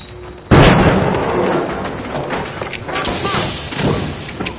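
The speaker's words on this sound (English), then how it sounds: "Throwing a flashbang." A flashbang grenade going off in the shooter game The Finals: a sudden loud close blast followed by a lingering noisy ringing wash with some softer pops and thuds afterward.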